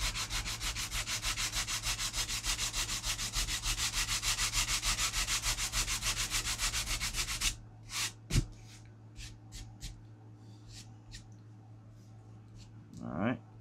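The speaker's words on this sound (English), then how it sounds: "So we're not sanding anything else" Hand sanding of the horizontal stabilizer on a Great Planes Ultra Sport 1000 model airplane, a close, rapid rhythmic rasping stroke repeated for about seven seconds, then stopping, followed by a few soft handling clicks and taps.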